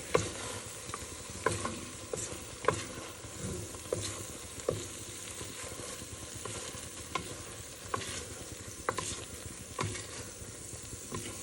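Meat frying in a generous amount of oil as it turns crispy, a steady sizzle broken by frequent sharp pops and crackles, close and moderately loud, with no talking.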